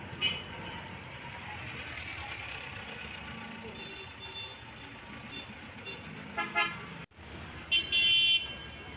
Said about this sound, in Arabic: بس زحمة مرورية جامدة جدا.